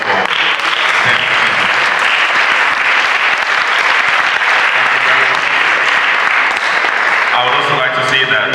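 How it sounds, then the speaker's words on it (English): Loud, sustained applause from an audience welcoming Zenith Bank staff at a financial literacy presentation at James Hope College, steady throughout with some voices mixed in near the end. "Please, a round of applause for Zenith."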